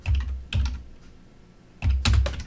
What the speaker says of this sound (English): I'm going to come over to the subject box and I'm going to type